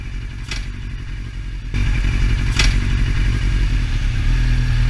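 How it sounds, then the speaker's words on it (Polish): A Yamaha Fazer motorcycle gearbox clunks as it is shifted from neutral into first gear. The engine idles steadily underneath, with a sharp metallic knock standing out partway through. "słychać trzask, jakby młotek wpadł do skrzyni z narzędziami"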